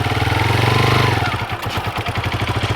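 A motorcycle engine during a beginner riding lesson, close and loud, running steadily and then dipping in pitch and pulsing unevenly as the clutch is pulled in.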